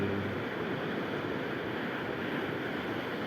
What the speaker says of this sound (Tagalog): Malaking alon talaga yan.